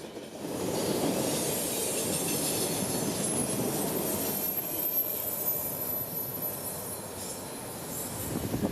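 An Amtrak passenger train rumbles past steadily at close range in Central Florida, a broad low roar with faint metallic wheel squeal on top, holding level throughout.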